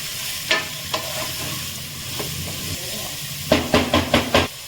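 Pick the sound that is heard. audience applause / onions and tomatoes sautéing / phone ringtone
onions and tomatoes sautéing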